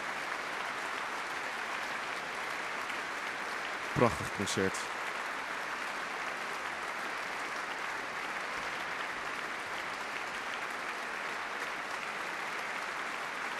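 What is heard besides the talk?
concert audience applause for the choir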